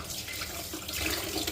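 Tap water runs steadily into a sink while dishes are rinsed, a soft continuous splashing hiss at close range with no talk.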